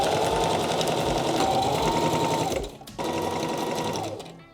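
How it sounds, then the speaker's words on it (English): A sewing machine runs close and loud, stitching straight lines on jeans darts in a steady whirring run. It stops briefly, then starts again for a second short burst. "Now I am sewing 2 straight lines."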